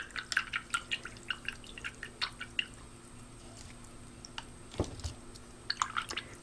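A paintbrush is gently swished in a water container to clean it, giving a series of soft, irregular drips and wet splashes, close and quiet, with brief pauses between them.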